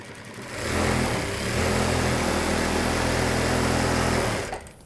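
An industrial sewing machine stitches a shirt collar in one steady, loud, continuous whirring run of about four seconds, starting and stopping cleanly, with no voices.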